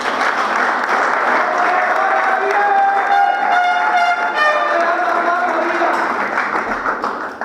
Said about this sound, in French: Est-ce qu'à ce stade, nous pouvons applaudir cette dame?